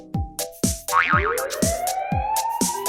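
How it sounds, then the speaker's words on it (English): A toy fire truck siren wails with a rising, wavering tone among several short boing-like plucks and taps, close and clear. "It's a siren, that's what it is."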